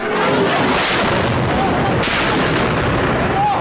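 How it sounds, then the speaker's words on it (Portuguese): A continuous, dense roar of booming blasts and crackling gunfire, loud and sustained throughout, with heavier bursts standing out near the start and midway. "Explosões em igrejas."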